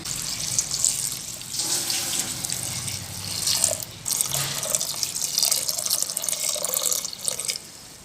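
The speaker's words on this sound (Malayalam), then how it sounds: "ആവശ്യത്തിന് ഈ വേവാൻ ആവശ്യമുള്ള വെള്ളം ഒഴിച്ചു കൊടുക്കട്ടെ" Water runs steadily from a tap into a pot of mung beans for cooking, a continuous splashing pour with a slight break midway, then resuming for several seconds.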